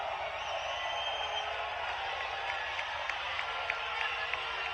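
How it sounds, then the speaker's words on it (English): Tennis crowd after a match producing a steady, moderately distant murmur of cheering and applause with scattered faint claps, continuous throughout. "You can hear the crowd start cheering for Taylor."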